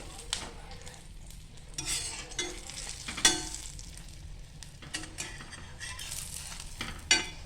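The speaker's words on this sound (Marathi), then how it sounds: "एकदा पलटी आता आपण इथे पलटी करून घेतोय" Rava burger patties sizzle softly in a pan after being flipped, a faint continuous frying hiss broken by a few light clinks of a utensil against the pan.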